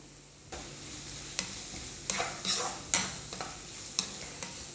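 Sliced onions and chopped green chillies sauté in a pan, a soft sizzle starting abruptly and carrying several brisk spatula scrapes at uneven intervals, close up and with no one talking.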